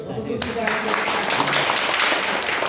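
An audience at a meeting with a Santal community breaks into sustained applause, dense clapping that fills the room at close range after a brief opening moment.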